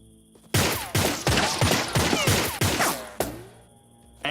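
Suppressing gunfire in the point-and-click game 3 Minutes to Midnight booms in a rapid series of about seven loud, evenly spaced shots, each with a short echoing decay, followed by a brief quiet.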